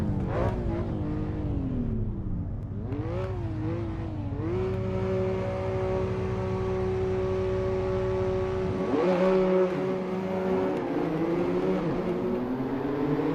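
A BMW race car engine in Assetto Corsa EVO revs and whines loudly and steadily, its pitch rising through gears and dipping between shifts, a sustained mechanical roar with no talking over it.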